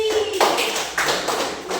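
Applause from a group in a junior high school classroom, a dense patter of many hands clapping fairly close, steady across the short stretch with a slight swell near the start.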